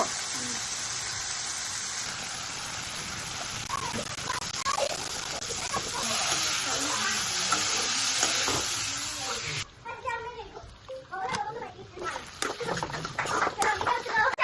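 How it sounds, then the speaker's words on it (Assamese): Meat and masala spices fry in a pan with a steady sizzle, then give way to uneven scraping and stirring noises, with a voice briefly heard over the cooking. "এইখিনি ভালকে ভাজি ল'বা ন"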